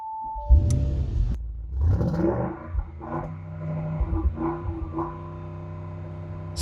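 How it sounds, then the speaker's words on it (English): An Audi RS Q8 performance SUV starts up: a click and chime, then the engine cranks and catches into a deep, loud rumbling idle that settles and holds steady, heard close with no speech. "Turning on the ignition."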